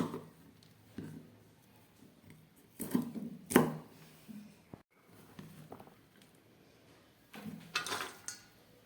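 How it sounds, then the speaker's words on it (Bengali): A knife slices through banana flower in a home kitchen, giving a handful of irregular, fairly close cutting knocks and scraping rustles spread across quiet pauses, with no one talking. "এইভাবে আমি কেটে নিচ্ছি, কেটে এগুলোকে সিদ্ধ করব।"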